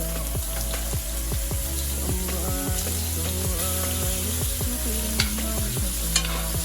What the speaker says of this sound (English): we're just going to baste our pork chop